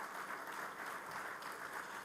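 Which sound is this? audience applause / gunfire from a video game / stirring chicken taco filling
audience applause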